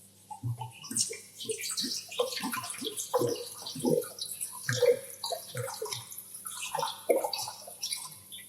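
Water running and splashing while tea is being made in a kitchen, a faint, irregular trickle with drips and gurgles at close range, rising and falling in bursts.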